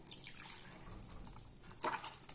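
Water pours into a bowl of goli bonda batter, heard as soft, close splashing and trickling with a brief, louder gush near the end, no voices.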